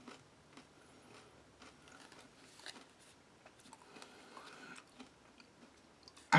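Crunchy food from a Slovenian military ration is chewed near the microphone in quiet, irregular crisp bites, with a louder bump at the very end.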